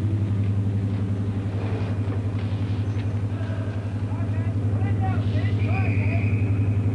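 Diesel locomotive, 1966 British railway, droning steadily with a low pulsing engine throb that holds level throughout, while voices talk faintly over it.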